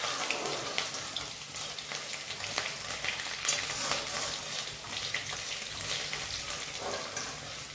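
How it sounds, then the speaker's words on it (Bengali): Chopped garlic frying in a pan for a ridge gourd bharta, giving a steady dense sizzle and crackle that holds evenly throughout with no talking. "রসুনটা একটু ভাজা ভাজা করে নিয়ে"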